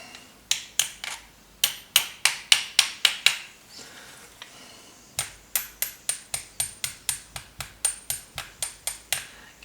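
A hammer taps a part into place while assembling a signal generator project, in two quick rhythmic series of sharp, close metallic knocks, about a dozen in the first burst and more after a short pause, with no talking.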